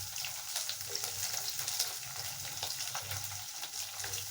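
Chopped big onion sizzles in a pan for red poha upma, a steady close hiss with faint shifting crackle.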